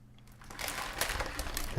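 A plastic bag of pet food crinkles and rustles near the microphone at a casual fishing tackle talk show, starting quiet and becoming steady, busy crackling after a brief pause.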